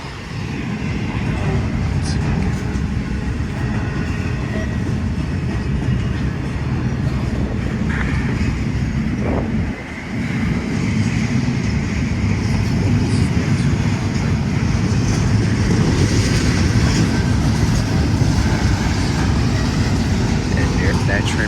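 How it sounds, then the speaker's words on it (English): A CSX or UP freight train rolls through Madison, a steady, loud low rumble that continues for over twenty seconds with a brief dip midway, with some speech heard faintly over it. "And there's that train right there,"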